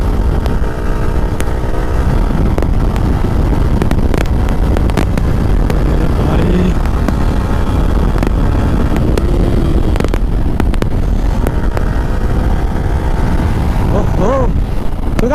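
A motorcycle rides along an open road and slows down as people appear ahead, its engine easing off under heavy wind buffeting, with a voice talking over it.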